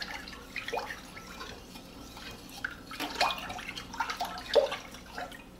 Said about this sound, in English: Now I just want to stir this until that baking soda dissolves.